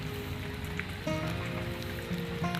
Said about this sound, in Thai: ตอนนี้ฝนก็ยังกำลังตกอยู่เลยนะครับ